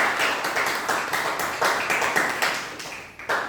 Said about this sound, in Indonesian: Tepuk tangan dulu untuk Prina.